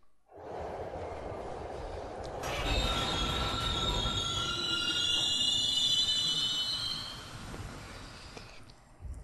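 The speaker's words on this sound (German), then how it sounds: "Nimmt denn dieser Zug auch jemals wieder ein Ende?" A train rolls along rails in the game Silent Hill 3, a steady rumbling clatter joined by loud, sustained high wheel squeal for several seconds before the noise eases off, with no talk.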